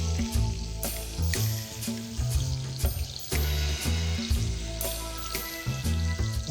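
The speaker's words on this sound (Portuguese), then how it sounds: "com essa gordura eu vou banhando os magrês de pato." Duck breasts sizzle and spatter in a pan while being basted in their own fat with garlic and thyme, a steady close frying crackle with clinks and stirring knocks throughout and no voices.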